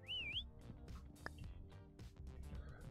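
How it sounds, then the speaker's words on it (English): A customer in the retail shop video game King of Retail gives a short rising-falling whistle at the start, set against a steady bed of in-game store ambience and chatter-like murmur. "He's going to whistle."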